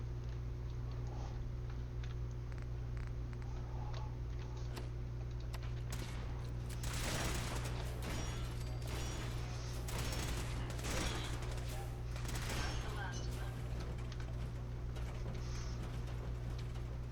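Gunfire from the companion robot Ada in Fallout 4, loud repeated bursts clustered in the middle stretch over a steady mechanical hum, with brief spoken remarks under the game noise.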